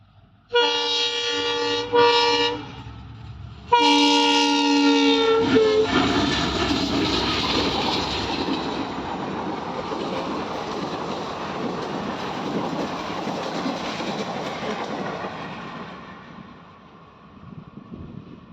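A train at a village railway crossing in Punjab sounds its horn in two long blasts, then rumbles loudly past with a steady, broad roar that slowly fades away.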